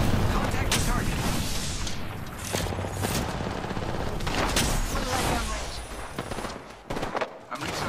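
Gunfire in a multiplayer shooter game: dense volleys of shots and booming impacts, some near and loud, others farther off, continuing steadily while a player talks over them.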